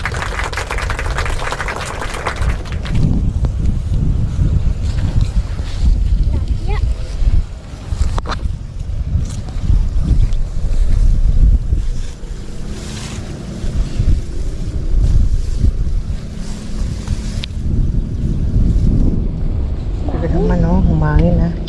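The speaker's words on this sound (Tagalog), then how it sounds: "Humangin ha." Strong wind at sea roars and buffets against the microphone in a heavy, continuous rush, with water and boat noise underneath and voices speaking at times.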